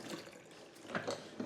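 Watermelon juice drips and trickles from a hand press, a faint wet patter with a few brief splashes over quiet background.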